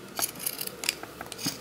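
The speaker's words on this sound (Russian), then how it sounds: "Ножницы зигзаг дают малоосыпаемый срез" Zigzag pinking scissors snip through fabric while a Tilda-style sheep is sewn, a quick run of close, crisp cutting strokes in a short burst.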